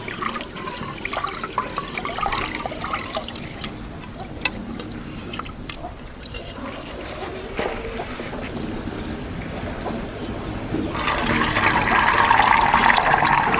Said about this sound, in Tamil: தண்ணி எடுத்துக்கிட்டு ஊற்றிட்டே